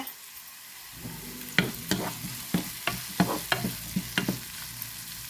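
Onions go into hot oil already crackling with mustard seeds and fennel seeds, then a spoon stirs them in a series of sharp scraping strokes over a steady sizzle. No one speaks.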